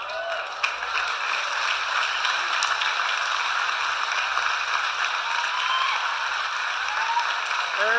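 A huge rally crowd of thousands applauds at the state capitol in Sacramento, a continuous, even wash of clapping that holds steady throughout without a break.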